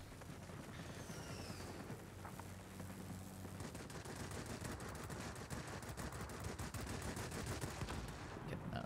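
Rapid gunfire crackles through a Wargaming online battle, dense bursts of shots piling up over a steady roar of battle noise, fairly distant and continuous with no clear pauses.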